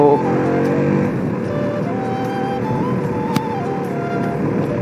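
KTM RC 200 motorcycle engine pulling hard under acceleration, a steady loud drone with rising and shifting engine pitch, close and continuous, with a voice talking over it.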